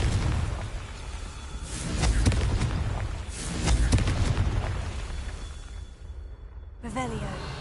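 Spell blasts go off in Hogwarts Legacy on PS5, a fire-type Confringo explosion among them, heard as repeated loud booming bursts with low rumble, swelling around two and four seconds, mixed with game voices and effects.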